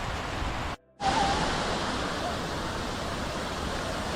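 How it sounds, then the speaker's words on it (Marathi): Aadoshi waterfall near Khopoli roars as a steady, dense broadband rush of falling water, loud and continuous apart from a brief cut-out near the start. "हा जो पाठीमागे दिसतो ना तो वॉटरफॉल आहे"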